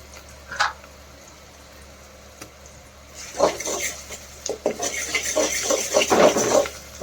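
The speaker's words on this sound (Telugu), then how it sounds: "ఒకసారి కలుపుకోవాలి." Ginger garlic paste being stirred into cabbage keema in a pan. Quiet at first with one faint clink, then a run of scraping, clattering utensil strokes and soft sizzle grows louder toward the end.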